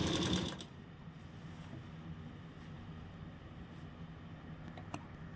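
A sewing machine stitching a salwar gives a short burst at the start, then falls to a faint, steady low hum with occasional tiny clicks; the sound stays quiet and distant throughout.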